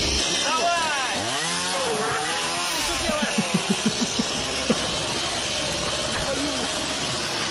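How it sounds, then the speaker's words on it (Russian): A motor drones steadily throughout, rising and falling in pitch like a revving chainsaw, with voices talking over it and a few sharp clanks near the middle. "он сейчас утопит еще эту бензопилу"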